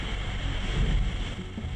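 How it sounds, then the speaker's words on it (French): Storm wind and breaking ocean waves surround a racing sailboat far offshore in a gale, a loud continuous roar and rush of air and water with no voices. "Bateau qui casse dans les vagues. Alors, la tempête souffle, Loïc Perron."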